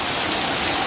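Steady heavy rain falling and hissing on surfaces, a dense, even wash of sound that is loud and close with no gaps.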